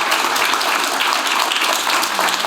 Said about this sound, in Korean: 큰 박수로 다시 한번 박수로 해주시기 바랍니다